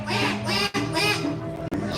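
A performer in a Balinese drama gong show at an arts centre in Badung imitates a duck with loud, nasal, buzzing quacks in quick succession, close and continuous.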